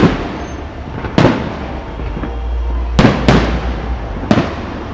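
Bonfire Night fireworks burst in sharp loud bangs, about five spaced over a few seconds with a couple close together, over a low steady rumble of crowd and outdoor background.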